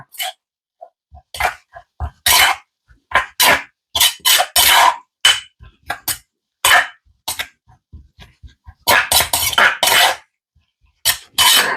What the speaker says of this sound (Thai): เราต้องคนให้ส่วนผสมเข้ากันดีๆนะคะ